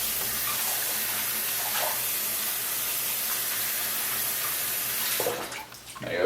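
Tap water runs steadily over a shaving soap puck as it is rinsed, a close, continuous hiss and splash with a brief change in the flow near the end.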